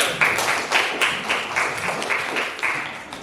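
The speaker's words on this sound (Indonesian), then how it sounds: "Tepuk tangan sekali lagi" Schoolchildren in a ninth-grade civics class clap together for their teacher, producing a steady, close, rhythmic patter of hand claps that runs evenly through the whole stretch without any talking.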